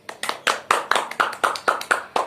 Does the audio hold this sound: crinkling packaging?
no